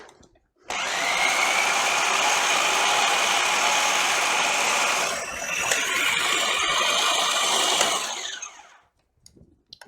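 A food processor with a large canister whirs loudly as it blends green pea guacamole, starting abruptly, running steadily for about eight seconds with a brief dip in pitch midway, then stopping.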